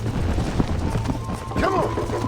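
Horse galloping in the Western video game Red Dead Redemption, its hoofbeats forming a steady driving rhythm over a dense bed of game music and ambience, with a brief whinny-like sweep near the end.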